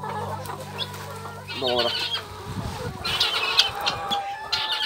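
A flock of hens clucks and murmurs nearby as the birds are let out of the coop in the morning, with rustling movement, a steady low hum and a man's brief words over them.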